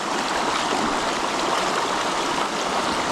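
Steady rushing water flows without pause, a broad constant wash of a stream or river close by.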